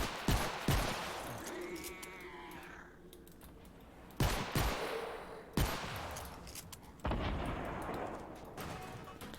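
Pistol gunfire and explosions from the video game Fortnite: Save the World, heard as sharp repeated shots and several booming blasts in bursts, fairly loud against a busy game soundscape with no talking.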